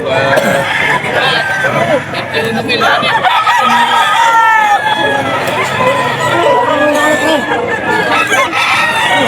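Fighting cocks crow repeatedly at a busy rooster market in Bocaue, several birds overlapping near and far amid clucking, while people talk and bargain throughout over a crowd murmur.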